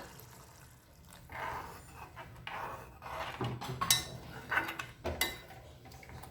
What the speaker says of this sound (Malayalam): ഇനി ഇതിലേക്ക് നമുക്കൊരു 1/2 കപ്പ് വിനാഗിരി ഒഴിച്ചു കൊടുക്കാം.